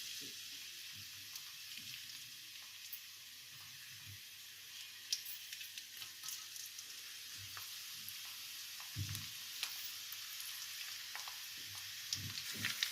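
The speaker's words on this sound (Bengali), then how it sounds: "রসুন কুচি দিয়ে আমি 1 মিনিটের মতো ভেজে নিয়েছি" Chopped garlic sizzles quietly in a pan, a soft steady crackle that stays low throughout, with occasional faint bumps and stirring noises and no voices.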